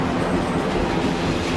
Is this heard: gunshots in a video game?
no